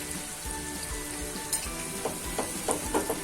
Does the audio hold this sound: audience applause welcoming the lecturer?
no